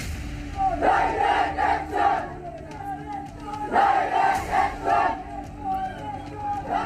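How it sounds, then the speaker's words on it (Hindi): A mob of radicals attacking Hindu homes and shops at night in a market in Sylhet, Bangladesh, roars and chants in surging waves, loud and close, with shouted voices rising and falling throughout. "बांग्लादेश के सिलहट दुआरा बाजार में मंगलवार की रात कट्टरपंथियों की भीड़ ने हिंदू घरों और दुकानों पर हमला कर दिया"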